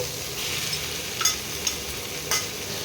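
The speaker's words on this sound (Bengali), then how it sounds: "এবারে কিমাটা দিয়ে দিচ্ছি" Minced meat going into a hot frying pan for a Bengali eggplant dish, a steady sizzle with a few sharp scrapes of a spatula stirring against the pan.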